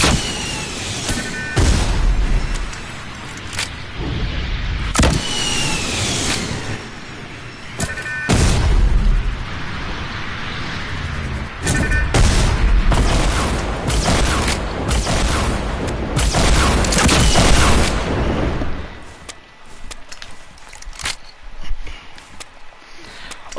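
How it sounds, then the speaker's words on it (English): Rocket launcher shots and explosions in Fortnite, repeated loud sharp blasts with booming tails over busy game noise, fading to quieter ambience in the last few seconds. "You can shoot a rocket."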